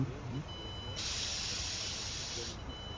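Someone blows into a police breathalyzer during a roadside alcohol check, producing a steady, breathy hiss that lasts about a second and a half before cutting off, against a low background.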